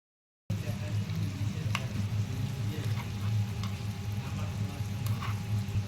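Spices fry in a small pan of oil for a hilsa and eggplant curry, a low steady sizzle with a few faint ticks of stirring, after a brief silent start.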